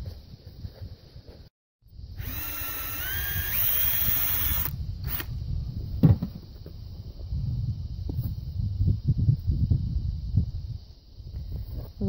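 A hand drill bores a tap hole into a maple tree outdoors among piled snow. A short close whirring burst with a steady high whine lasts a couple of seconds, then gives way to wind noise and soft handling rumble.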